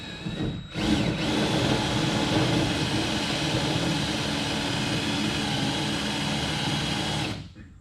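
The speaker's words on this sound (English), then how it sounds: "Then you just take a spot weld cutter and you just take and get started." A spot weld cutter bores into the sheet metal body of an '85 El Camino, a loud continuous high-pitched drilling whine that starts after a brief pause and runs steadily for several seconds before stopping.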